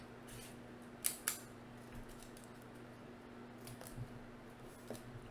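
Scissors snip paper pieces for a SpaceX capsule model, a few faint, sharp close cuts, two quick ones together, then scattered softer snips in a quiet room with a low hum.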